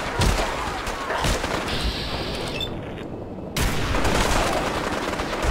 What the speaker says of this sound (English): Oh, he's shooting at the Brotherhood.